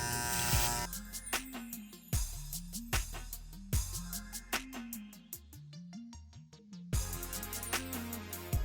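Electric hair clippers buzz through a high skin fade, the motor pitch rising and dipping in a steady stop-start rhythm as the blade passes over the head, close and alone with no talking.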